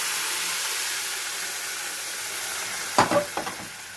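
Spice masala fries with a steady hiss as chickpeas go in, then a short burst of clattering stirring near the end breaks through the continuous sizzle.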